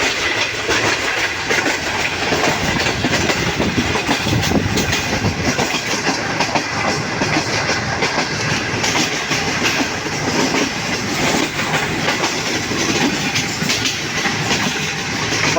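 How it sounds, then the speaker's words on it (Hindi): Green Line Express passenger train running toward Lahore, a steady loud rumble with rhythmic clickety-clack of wheels over rail joints and a constant hiss, heard close from on board without talk. "अब ग्रीन लाइन एक्सप्रेस तकरीबन 15 मिनट लेट लाहौर अराइवल बना रही है।"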